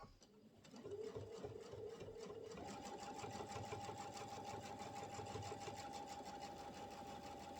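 A sewing machine fitted with a Move It foot stitches quilt binding, running as a continuous close rapid whir that steps up to a higher, faster hum partway through.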